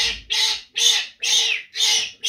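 A pet parrot squawks harshly and loudly up close, about five evenly spaced screeching bursts with brief silences between them.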